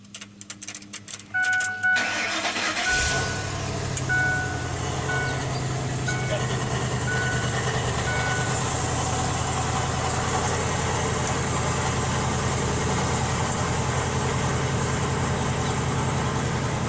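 A truck engine cranks over briefly, catches and settles into a steady, loud, low idle that runs on without a break; a short talking voice comes just before the start.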